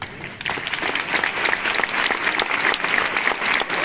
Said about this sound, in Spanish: pero a esto te voy a aplaudir.